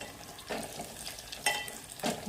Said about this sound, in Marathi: आणखी मिरचीला आपण छान असं तेलामध्ये परतून घ्यायचं आहे